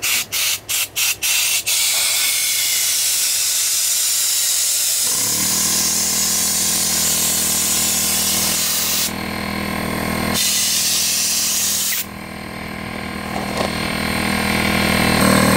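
An electric air pump roars steadily through a small nozzle while inflating an inflatable pool, a loud continuous hissing whoosh after a few brief clicks at the start, with the pitch and tone shifting slightly as the inflation goes on.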